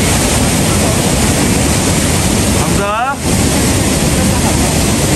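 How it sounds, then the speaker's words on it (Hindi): Monsoon rainwater pours down the mountains near Umbrella Waterfall in Abbottabad, a loud, constant roar of rushing water and wind, broken midway by a brief rising whistle-like tone. "सारा पहाड़ों से बारिश का पानी नीचे आ रहा है"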